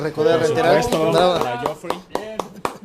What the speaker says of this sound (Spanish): vamos a emitir un gran aplauso para mi amigo Geoffrey